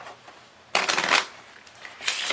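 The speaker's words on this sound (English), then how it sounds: "I'm gonna take this deck and that deck and shuffle them together." Two decks of playing cards are riffled together in a bright, crisp burst of fluttering snaps, followed by quieter handling and a second shorter riffle near the end.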